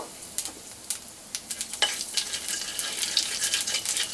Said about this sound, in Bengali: এবার আমি যে হাফ চামচ কালো জিরে নিয়েছি সেটা দিয়ে দেব।